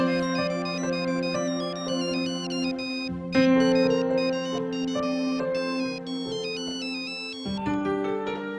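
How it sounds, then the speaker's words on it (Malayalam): A mobile phone ringtone plays a repeating electronic melody, ringing on and on at a steady moderate level with brief pauses between phrases and no talk over it. "നിനക്കാ ഫോൺ? നാട്ടിൽ നിന്നാന്ന് തോന്നുന്നു."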